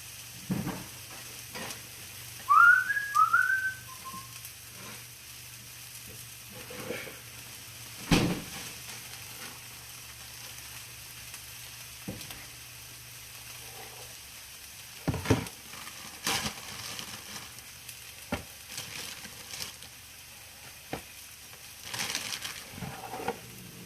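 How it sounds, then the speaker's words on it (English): A bun heats in a pan without butter, a soft intermittent sizzle broken by several sharp scrapes and knocks against the pan, close up with no talking. "Heat that bun up a little bit."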